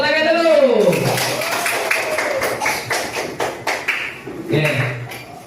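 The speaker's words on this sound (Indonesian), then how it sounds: "Tepuk tangan dulu." A sixth-grade class in an Islamic religious education lesson claps hands together, a short run of quick, fairly loud claps that follows a teacher's talk and fades into brief voices.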